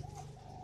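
A spotted dove gives a brief soft coo, faint and steady over a low background hum.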